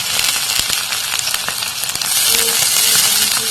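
Lentils (dal) hit a hot pan and sizzle loudly, a dense, steady frying hiss with crackles that swells a little halfway through, up close with no talking.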